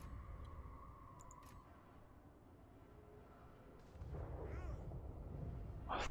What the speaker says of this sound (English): It's mortars, lots of ranged.